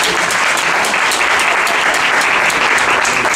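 A lecture crowd at the National Museum of Mathematics breaks into loud, dense, steady applause for mathematician John Urschel, the clapping sustained evenly throughout with no voices on top.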